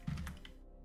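A short, faint burst of quick keystrokes on a computer keyboard, a few soft clicks close by that fade out within a second.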